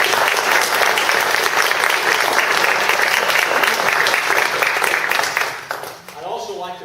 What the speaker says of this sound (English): give them a round of applause just to say thank you